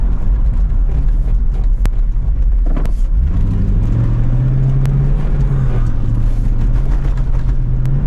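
A 1996 Corvette on 17x11 inch wheels rolls over a rough, broken road, giving a loud, close, continuous engine drone and road rumble with a rising engine note partway through and occasional sharp knocks from the bumps.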